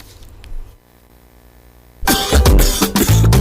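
A quiet stretch, then a loud burst of harsh coughing from about two seconds on, close and sustained to the end.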